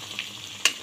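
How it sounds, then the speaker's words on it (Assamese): Dried fish fries in hot oil in a wok with a soft, brief sizzle and a single sharper crackle or pop. "মই শুকান মাছখিনি ধুনীয়াকৈ ভাজি ল'ম ইয়াত আগতে"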